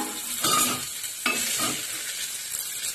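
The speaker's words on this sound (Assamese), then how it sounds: "এই বস্তুখিনি লৰাই দিব" Onion and chopped green chili stirred in a pan over medium gas for a vegetable chickpea dal, with a steady sizzle and two sharper scraping strokes near the start, close and alone.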